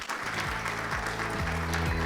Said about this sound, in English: Please give them the biggest round of applause.